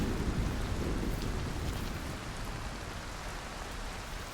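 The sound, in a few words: rain falling in video game Cairn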